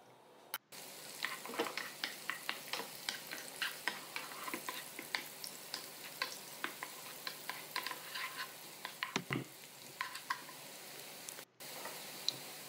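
Onions frying in butter and cooking oil in a pan, a soft steady sizzle dotted with frequent sharp ticks and crackles, close and fairly quiet, with no voices.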